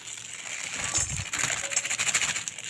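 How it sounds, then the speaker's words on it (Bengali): Cashews and raisins drop into hot ghee in a pan with a burst of light clinks and patters, then a soft, crackling sizzle, close and fairly quiet. "এর মধ্যে দিয়ে দিচ্ছি কাজু কিশমিশ"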